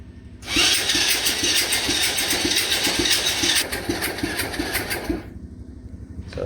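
A Coolster 125cc ATV engine cranking and starting on full choke, a loud rapid rhythmic chugging close by that runs for several seconds, drops back briefly, then cuts out and fires again.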